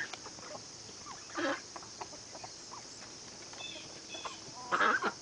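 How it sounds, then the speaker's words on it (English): A rooster and hen clucking intermittently at a moderate distance, with a louder burst of agitated clucking near the end as the rooster chases the hen, over steady background noise. "That rooster's hustling the hen."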